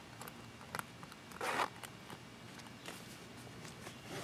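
A short zipper pull on a tool pouch rasps once, quick and close, amid faint handling rustles and light taps.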